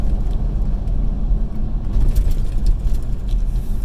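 Car rolling slowly across a worn-out old bridge with no foundation left, a steady close engine and tire rumble with faint creaks over the deck, no talking.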